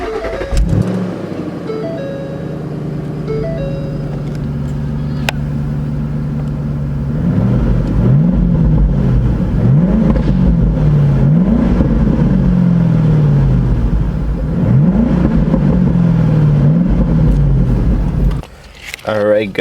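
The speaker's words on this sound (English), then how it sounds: "let's go ahead and start it up and do some revving" A Ford Mustang engine cranks and catches, settles into a rumbling idle, then revs up several times in quick bursts before dropping back, close and loud.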